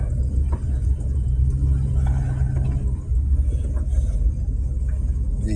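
A van rolling slowly around a parking lot, a steady low engine and road rumble throughout, close and fairly loud, with no voices.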